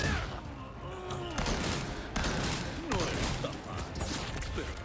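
Shotgun blasts in a Resident Evil 4 Remake boss fight against Krauser, several loud booming shots spaced a second or so apart amid dense combat noise, with a voice speaking.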